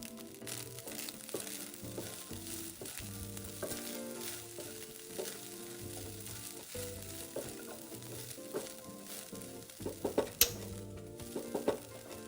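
Taro and sausage fried rice with pepper and green onion is stir-fried in a wok, giving a steady sizzle under repeated scraping and tossing. Sharper clatters of the spatula against the pan come near the end, and no one speaks.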